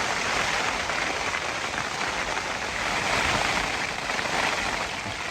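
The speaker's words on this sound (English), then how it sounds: "Well, this rain has not stopped, it is pounding, absolutely pounding." Steady, dense roar of heavy rain pouring down on a tent during a wild-camping storm, loud and continuous throughout with no other sounds.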